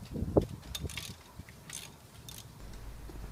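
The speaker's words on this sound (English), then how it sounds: "Removing the two caliper pins with a" An Allen key works the caliper pins on a Volkswagen Transporter's front brake, giving a few close metallic clicks and ratcheting scrapes followed by quieter rustling.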